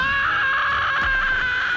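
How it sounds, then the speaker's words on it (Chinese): A Jump Force fighting-game character lets out one sustained, strained scream of pain lasting nearly two seconds, loud and steady over clashing game effects. "惨叫啊！"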